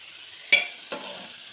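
Boiled chickpeas tipped into a hot pan for chole: two quick bursts of sizzle, the first sharp and loud, the second softer, against a quiet background.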